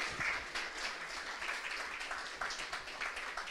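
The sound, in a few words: congregation applauding in church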